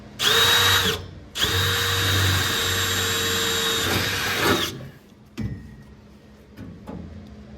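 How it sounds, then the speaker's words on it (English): Loud electric drill with a step bit whines through two bursts, the second long and steady, then winds down, followed by a few clunks and quieter handling sounds, during fabrication of a column drop for a 1932 Ford. "Let's drill it out."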